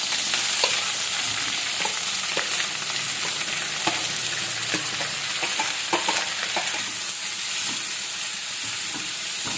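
Sliced onions sauté in hot oil in a pan with bay leaf and mustard seeds, giving a loud, continuous sizzle broken by frequent scraping stir clicks and no voices.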